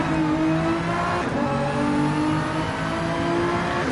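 Race car engine in a racing video game runs loud and continuous, holding a steady high-pitched drone with shifting harmonics as it downshifts to third gear into a heavy braking zone before a left-hander.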